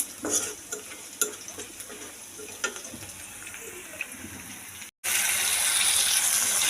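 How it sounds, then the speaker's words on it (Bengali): Spiced masala with potatoes sautéing in a home kitchen pan: spatula scrapes and taps over a soft sizzle, then after a brief break a much louder, steady rushing hiss takes over. No talking. "এখানে হচ্ছে মশলা কষানো হয়ে যাচ্ছে"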